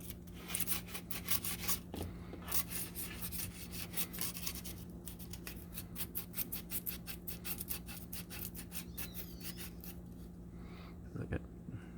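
Steady rhythmic rubbing and rasping while scrubbing and buffing metal motorcycle handlebars, close and fairly quiet, with repeated back-and-forth strokes and a low hum beneath.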